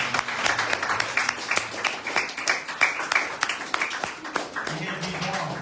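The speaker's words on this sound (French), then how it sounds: "Acclamons Jésus." A church congregation at a worship service claps together in steady rhythmic applause, a dense, lively crowd sound with voices mixed in throughout.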